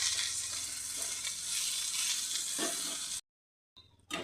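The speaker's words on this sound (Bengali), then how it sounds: "ভালো করে এটাকে ভেজে নিতে হবে বন্ধুরা" Vegetables fry in a pan with a steady, close sizzle that cuts off abruptly, followed by a short quiet gap and a faint return.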